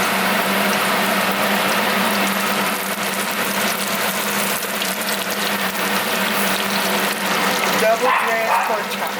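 Double-dredged pork chops fry in hot oil and butter, a dense, loud, continuous sizzle and crackle running steadily throughout, close up.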